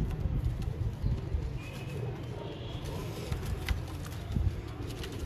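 Home-bred pigeons coo softly and steadily in a loft, faint and somewhat distant, with scattered clicks and low background rumble.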